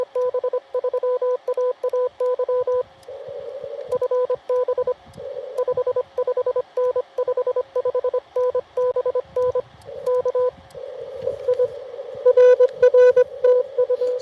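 Morse code tones of the ham radio call sign KB3AAY, keyed in steady on-off beeps of a single pitch over faint static, with a brief burst of overlapping signals near the end during outdoor portable operation.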